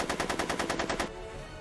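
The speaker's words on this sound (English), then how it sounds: "I'm finding it difficult to concentrate with all the bullets flying around my head" A rapid burst of about a dozen evenly spaced automatic gunshots in the Back to the Future video game, loud and close, cut off abruptly and followed by a brief quiet tail.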